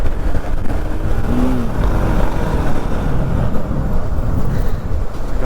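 Motorcycle on the road to Nandi Hills near Bangalore, a steady loud engine drone mixed with rushing wind and road noise, close and continuous with no talking.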